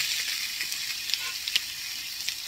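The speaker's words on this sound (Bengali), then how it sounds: "হালকা করে একটু ভেজে নেব চালটাটা।" Boiled elephant apple (chalta) fries in hot spiced oil, giving a steady, soft sizzle with faint crackles throughout and no talking.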